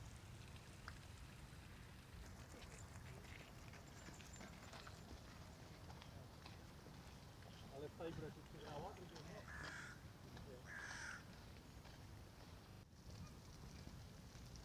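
A few crows caw in the distance amid steady outdoor background noise and a low rumble, the calls coming in short bursts midway through, in the Saxon Garden.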